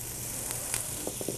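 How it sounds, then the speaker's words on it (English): A faint, steady sizzle of vegetables frying in a pan for chowder, with a few soft clicks and taps near the end, no voices. "You can hear that sizzle."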